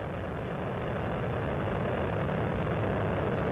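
Space Shuttle Columbia's three liquid-fuel main engines roar during launch as they throttle back toward 72% of rated performance: a dense, steady, loud rumble with no pauses and no voices.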